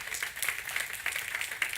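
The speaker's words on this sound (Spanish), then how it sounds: "Den un aplauso al Señor esta mañana." A congregation claps during a Sunday morning church service, producing a steady, moderately loud patter of many hands with no voices on top.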